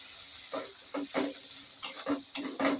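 Oil sizzling in a pan while food is stirred, a steady frying hiss with a few louder scraping stirs, close up.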